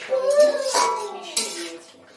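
Chicken stew being stirred in a pot, with utensils clinking and scraping against the cookware in short bursts over a couple of seconds, fairly close.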